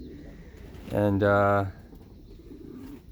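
A racing pigeon in a loft gives a single throaty coo, near and clear, lasting under a second against a quiet room background, with a brief spoken word just before it.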